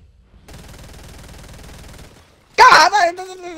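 A charge SMG fires in a video game, a rapid burst of shots lasting about a second and a half, followed by a loud vocal outburst.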